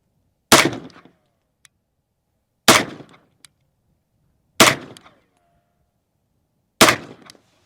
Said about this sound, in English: we will shoot with the XP Fusion Pro next